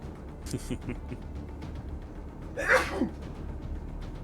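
A single sharp sneeze bursts out midway, loud and close, after some brief faint sounds, against quiet room background during a tabletop game session.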